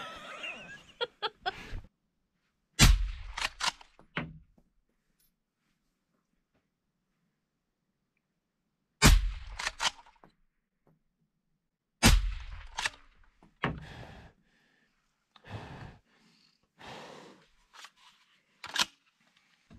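Rifle shots fired at an outdoor shooting range while a scope is being zeroed, a few sharp loud cracks spaced seconds apart, some in quick pairs, with quieter clicks and handling noises between them.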